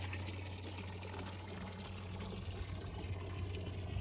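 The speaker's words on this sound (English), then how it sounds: "I decided to just, well, get her with the hose instead of letting her get in the water trough" A water hose sprays steadily onto a large steer, a faint continuous hiss and splash with a low hum underneath, no voices heard.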